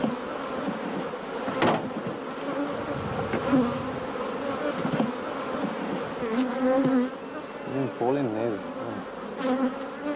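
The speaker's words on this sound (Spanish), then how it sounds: "Las abejas son uno de ellos, pero en la vida de la dehesa tienen un papel que las diferencia de los demás insectos" Honeybees buzz steadily through open dehesa woodland near Hornachuelos, a dense, continuous insect drone with some louder passes close by and a few brief wavering tones from other sounds in the background.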